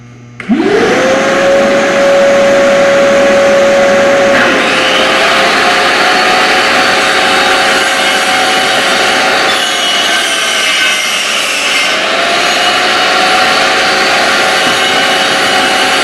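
A Pro Cut 50 router spins up with a rising whine, then runs loud and close with a steady high-pitched motor hum and rushing noise as it cuts wood in a workshop. The pitch shifts slightly as the load changes.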